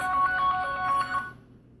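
A mobile phone rings with a repeating electronic tone pattern, fairly faint and steady, then cuts off abruptly.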